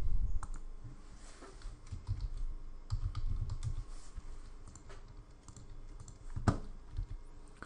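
Close, fairly quiet typing on a computer keyboard: an irregular patter of key clicks in short runs with brief pauses and no voices.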